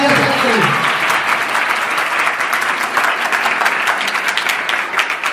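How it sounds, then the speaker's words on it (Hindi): Loud, sustained applause from a seminar audience on entrepreneurship: many hands clapping in a steady dense wash, with a voice speaking briefly at the start before the clapping takes over. "एक बार जोरदार तालियां सकते"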